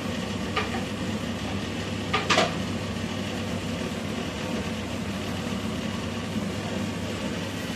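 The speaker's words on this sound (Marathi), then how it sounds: "आता आपल्याला फ्राय करायचा आहे कांदा हा." Chopped onions frying in a pan, heard as a steady close hiss and sizzle that holds throughout, with a couple of brief scrapes or stirs near the start.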